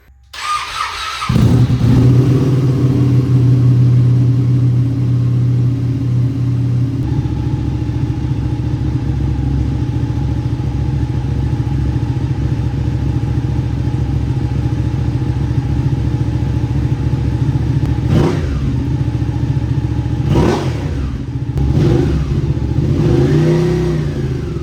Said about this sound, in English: I'm gonna fire this thing up, guys, and let it idle before we take it out